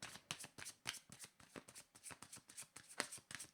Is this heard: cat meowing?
no